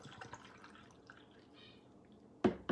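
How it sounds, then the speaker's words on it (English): Cold brew coffee poured over ice with syrup in a glass, a faint low trickle running under quiet kitchen background, then two short louder splashy bursts near the end. "And then I'm going to pour my coffee in."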